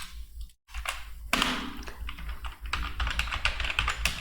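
Computer keyboard typing while entering a purchase voucher in Tally Prime: a close run of quick, uneven key clicks with a brief pause near the start, then steady tapping.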